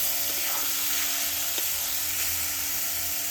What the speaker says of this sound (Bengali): এইভাবে উল্টে পাল্টে কিছুক্ষণ ভেজে নেব